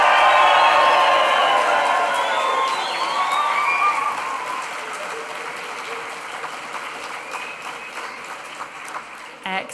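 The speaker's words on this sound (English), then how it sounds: "let's all give a big cheer for the graduating class of 2025" A crowd cheers and applauds for the graduating psychology class of 2025 at a graduation ceremony, with loud whoops and shouts over dense clapping that gradually tapers off.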